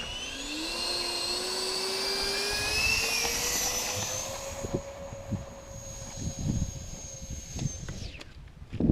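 An airplane engine winds up during takeoff with a rising whine and steady roar, then cuts off into scattered thumps and rattles.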